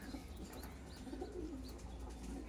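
Young pigeons in a loft give soft, low cooing calls that overlap and repeat, fairly faint and close, with no talking.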